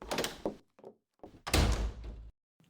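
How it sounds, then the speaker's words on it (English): A bedroom door in a house opens and closes, a few wooden thunks and a heavier slam-like knock, close and fairly loud, separated by brief silences. "The door to the bedroom opened"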